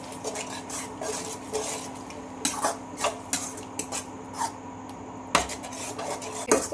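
Egg rice being stirred and mixed in a metal pan, with a spatula scraping and clinking against the pan in a steady run of close, repeated strokes and no talking.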